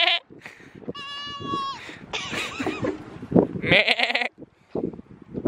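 A human voice imitates goats bleating on a goat farm, giving several nasal, wavering "meh" cries at close range, broken up by pauses and other sounds.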